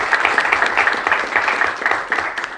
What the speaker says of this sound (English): If you can join me in a round of applause for Kate